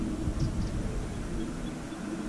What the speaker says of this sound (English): I can hear the tractor coming.